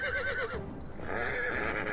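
A horse in the Total War: Attila battle game gives a loud, close whinny with a wavering pitch that falls and trails off over about two seconds.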